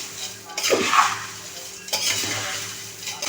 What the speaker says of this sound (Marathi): मसाला व्यवस्थित असा मिक्स करून घ्यायचा आहे.